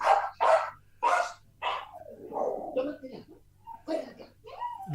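Several dogs bark and yip in sharp, loud bursts close by, with some whimpering between barks and someone talking over them.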